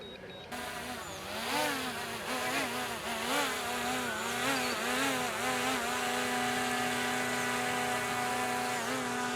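A DJI Mini 5 Pro drone hovers close by and descends to land, its steady high-pitched propeller whine continuous and loud with slight pitch wavering, no talking.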